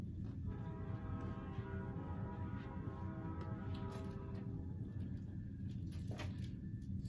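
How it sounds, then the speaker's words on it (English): A train rolls past nearby with a steady low rumble and clatter of cars on the rails, a sustained horn-like tone sounding through the first few seconds, then the rumble alone with scattered knocks. "We'll let the train do its thing."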